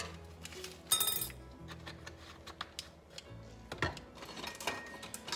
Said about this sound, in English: now we need to stir that up.